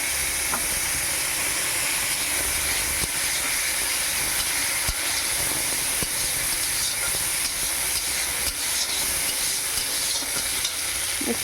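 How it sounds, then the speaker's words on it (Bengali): Mustard seeds and dried red chillies tempering in hot oil, frying into a steady, close sizzle and crackle, with occasional sharper pops, continuous throughout with no voices. "আর একটু সরষা ফোড়ন দিয়ে দেব। একটু ভাজা হয়ে গেলে, ফুটে গেলে"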